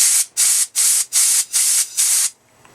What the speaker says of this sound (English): Just little air nozzle.